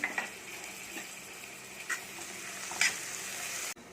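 Onions, curry leaves and green chillies fry in a pan for a mutton trotter gravy: a low continuous sizzle broken by a few sharp spatula taps and scrapes, then an abrupt cut to quiet.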